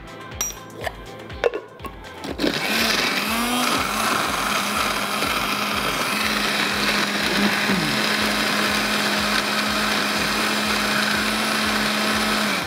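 A blender runs steadily and loudly for about ten seconds after some clinking and handling, blending a spiced mixture seasoned with chaat masala and salt.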